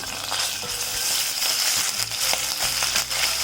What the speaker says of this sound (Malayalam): ഇനി ഇതിലേക്ക് ഞാനിവിടെ 1 table spoon ginger garlic paste എടുത്തിട്ടുണ്ട്, അതിട്ടിട്ട് ഒന്ന് വഴറ്റി കൊടുക്കാം.